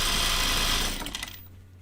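A sewing machine runs steadily while stitching a seam on a striped 1940s dress. The whirring motor is loud and close for about a second, then slows and trails off into quiet.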